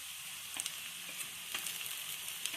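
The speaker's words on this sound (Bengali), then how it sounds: "পেঁয়াজ হালকা ভাজা হওয়ার পরই এবার দিয়ে দেওয়া হচ্ছে রসুন বাটা।" Sliced onions and garlic paste frying in a pan for a potato chicken curry, with a faint, steady sizzle and a few scattered scraping clicks as they are stirred, heard alone without voices.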